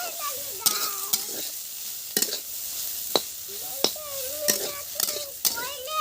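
Dry red chillies and cumin crackle and sizzle in hot oil in a home kitchen pan for potato bhaji, a steady frying hiss punctuated by sharp pops and spoon scrapes, close and without talk.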